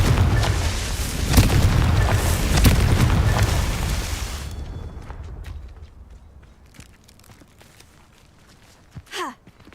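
Confringo blasting spell explosion in the Hogwarts Legacy video game: a loud, broad booming burst with rumbling debris for about four seconds, fading into quieter scattered clicks and a brief sharp whoosh near the end.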